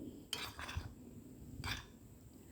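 Sugar and atta biscuit ingredients stirred in a bowl: a few soft scraping, clinking strokes of a utensil against the dish, faint and close.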